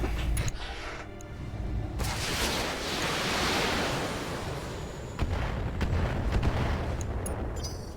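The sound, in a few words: missiles being fired in a naval video game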